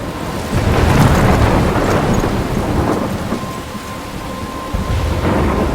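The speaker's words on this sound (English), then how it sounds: "I'm trapped in a storm?" A thunderstorm rages in the video game Life is Strange: heavy rain pours down while deep thunder rumbles and swells, loud and close, with a thinner hiss of rain as the rumbling eases.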